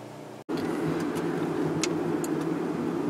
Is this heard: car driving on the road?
yes